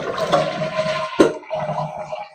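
A toilet flushes after a Fluidmaster Perfect Fit handle has been installed: a click of the handle, then a close rush and gurgle of water draining from the tank, with no talking.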